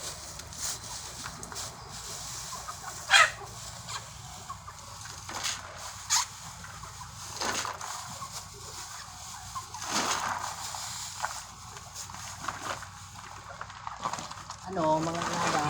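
Chickens cluck and chatter while being fed, with soft scattered calls over a steady outdoor background and a murmur of voices, and a few sharper clucks stand out.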